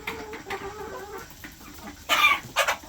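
High, thin peeping calls from young guinea fowl chicks repeat at close range, ending in a couple of louder, harsh squawks.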